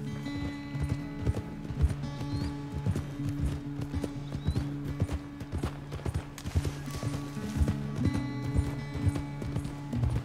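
Horse galloping in Red Dead Redemption 2, with a steady, rapid clip-clop of hooves running throughout at a close, moderate level and no talking over it.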